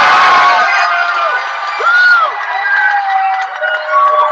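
A crowd cheers and whoops for the announced winners of a culinary competition, a loud, dense wash of voices with rising shouts that stays steady for several seconds.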